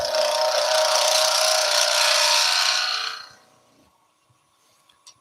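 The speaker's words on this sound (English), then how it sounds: "I'm just going to round this end off" A wood lathe spins a wooden magic wand blank as the end is rounded off, a loud, steady scraping whir for about three seconds that then fades away, leaving near silence with a few faint clicks.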